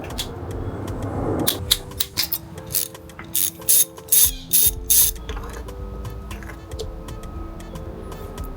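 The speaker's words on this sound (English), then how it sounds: "I got a T27 Torx to take this sucker out" A ratchet with a T27 Torx bit removing a fuel heater blanking plate from a diesel injection pump, giving close, loud metallic clicking: steady ratcheting, then a series of rhythmic, separated bursts of pawl clicks before quieter ticking continues.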